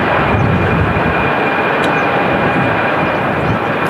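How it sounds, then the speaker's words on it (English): An EasyJet Airbus A319 takes off from runway 23 left at windy Manchester Airport, its loud, continuous engine roar filling the whole moment with a broad, rumbling wash. "Off she goes, the EasyJet"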